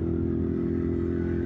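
A motorcycle engine drones steadily and close while riding, a constant low harmonic hum with some wind noise over it, no voice present.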